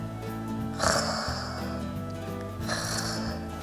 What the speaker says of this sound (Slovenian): Mala ovčka je tiho smrčala v njegovo uho.